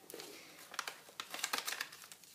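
Paper being folded into an origami crane, with close, quiet crinkles and sharp crisp creases in irregular bursts.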